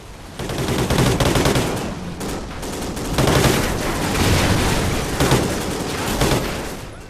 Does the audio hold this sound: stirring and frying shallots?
no